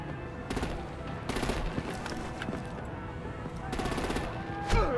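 Rapid bursts of automatic gunfire with heavier artillery-like thuds in Batman: The Enemy Within, rattling in repeated volleys at mid distance with voices shouting in between.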